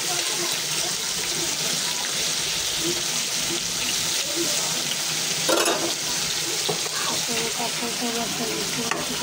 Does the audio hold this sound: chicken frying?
yes